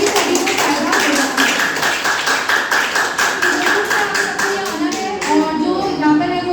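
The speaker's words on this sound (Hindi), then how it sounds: "जो लेटे हैं वो भी तालियां बजाएं" An audience at a therapy session claps together, a dense, steady patter of many hands that keeps going throughout and thins out near the end.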